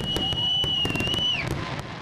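Fireworks over downtown Columbus during the Red, White and Boom celebration: a long whistling rocket tone glides steadily then drops, amid a dense crackle of distant bursts and pops, loud and continuous.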